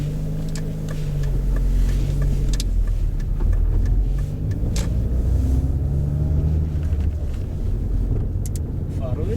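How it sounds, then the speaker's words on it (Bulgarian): A 2000 Renault Scenic 1.6 16V rumbles as it pulls away and drives, its engine noise steady and fairly loud inside the cabin, with wind buffeting and a faint voice underneath. "Сега да направим едно малко шофиране, да запалим колата."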